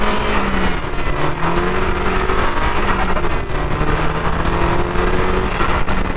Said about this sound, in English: here's what it sounds like after the new intake is installed